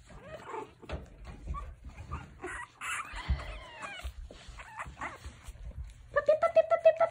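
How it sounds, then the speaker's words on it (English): Puppies whimper and yip in thin, high, wavering cries, scattered at first then a rapid run of squeaky whines near the end, while a person talks over them up close. "Puppy, puppy, puppy, puppy, puppy, puppy, puppy, puppies."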